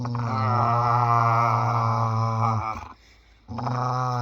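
A dog growls up close in a long, loud, rumbling snarl that drops out briefly before resuming just as strong, with no talk over it.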